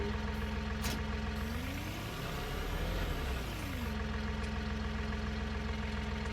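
A tractor engine runs in Farming Simulator 19, a low, steady idling drone with a slight rise and fall in pitch midway, heard faintly and alone.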